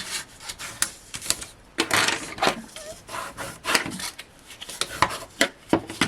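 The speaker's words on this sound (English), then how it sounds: "I'm just going to burnish those down" Paper craft pieces are burnished down by hand, giving repeated scratchy rubbing strokes in irregular bursts, close-up and fairly crisp with no voices.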